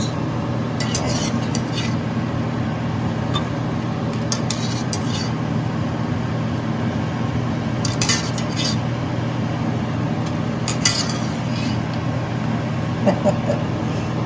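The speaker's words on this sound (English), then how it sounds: "Then I'm going to mix it in the pot." Tuna pasta being mixed in a metal pot: intermittent scraping and clinking of a utensil against the pot over a steady background hum, fairly close and moderately loud.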